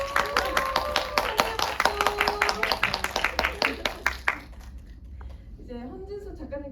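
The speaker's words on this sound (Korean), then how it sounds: "박수 먼저 받겠습니다" Audience in a Jeju lecture hall claps for a visiting artist, a dense run of sharp handclaps for about four seconds that thins out and stops, followed by a voice speaking.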